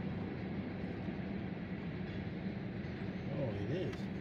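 A Norfolk Southern freight train hauling tank cars rolls past in a steady, continuous rumble with faint wheel clatter, while people talk nearby over the noise.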